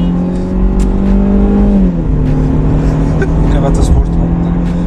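Mercedes C 180 AMG accelerating in sport mode, a loud steady engine drone whose pitch shifts down at a gear change and holds close throughout, heard from inside with faint sounds over it.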